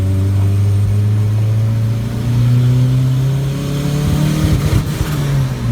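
A turbocharged Honda Civic running stock injectors, fuel pump and ignition map on fuel-only tuning revs steadily, its loud engine note climbing slowly and holding close throughout with no talk.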